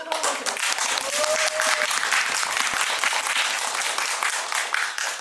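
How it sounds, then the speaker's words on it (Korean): Audience applause fills a cinema screening room during a post-film discussion event at a CGV theater, a dense, steady wash of many hands clapping at close range for the full stretch, with a brief faint voice briefly emerging early. "큰 박수를 한번 드려주세요"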